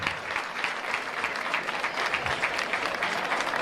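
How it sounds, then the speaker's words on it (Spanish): Sustained applause from a crowd gathered in a town square for a civic ceremony, dense and steady throughout without a pause, with no voices rising above the clapping. "Un aplauso para ellos porque se lo merecen."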